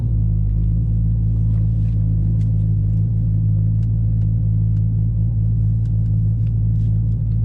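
A car with a Hemi 5.7 V8 and a Texas Speed Stage 3 cam drives along, its engine giving a loud, steady, deep rumble with a lumpy idle-like pulse that continues unbroken throughout.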